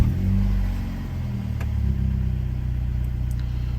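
A VW Tiguan's engine, just fitted with a DQ250 DSG gearbox in place of the 09G, runs close by with a steady low rumble that swells slightly partway through, no voices.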